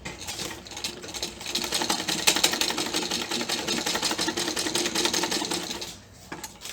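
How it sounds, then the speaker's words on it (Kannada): A sewing machine stitches two fabric pieces together for a makeup and hair-band organizer, a rapid, steady mechanical rattle running close for several seconds before slowing to a stop. "ಈಗ ಎರಡು ಹೀಗೆ ಸೇರಿಸ್ಕೊಂಡು ಜಸ್ಟ್ ಹೊಲಿಗೆ ಹಾಕ್ಕೊಳ್ಳೋದು"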